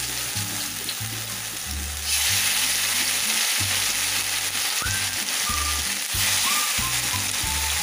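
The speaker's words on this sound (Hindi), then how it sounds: "कढ़ाई में मैंने थोड़ा सा ऑयल डाल लिया है, और इसे हमें शैलो फ्राई करना है।" Beef pasanda pieces shallow fry in a little oil in a kadai over low-medium flame, a dense continuous sizzle that swells louder partway through, with faint scraping and occasional clinks.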